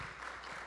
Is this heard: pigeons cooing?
no